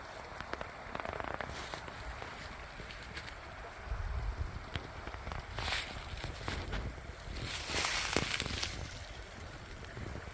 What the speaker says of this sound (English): And then this is the creek.